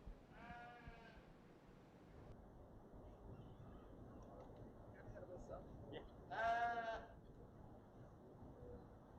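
Sheep bleat twice in a livestock show barn during a 4-H sheep show with Southdown ewes, the calls separated by several seconds of crowd murmur, the second one louder and nearer.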